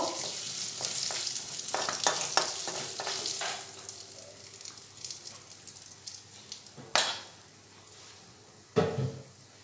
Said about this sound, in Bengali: ফোড়নটা একটু নেড়ে নেব